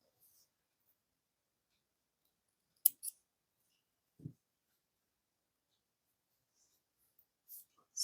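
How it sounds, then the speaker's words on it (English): Scissors snip through beading thread while beaded Pallav earrings are finished, giving a couple of quick, quiet clicks close by in an otherwise silent room. "Now we can cut our thread off."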